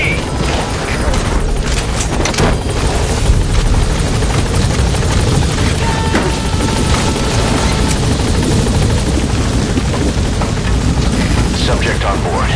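Close, steady helicopter rotor thump and turbine whine fill the whole stretch in a Metal Gear Solid 5 game scene as the aircraft gains altitude, with a few heavy knocks and radio voices talking over it.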